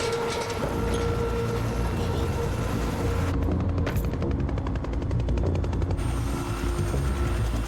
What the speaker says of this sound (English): Sure does sound like a helicopter.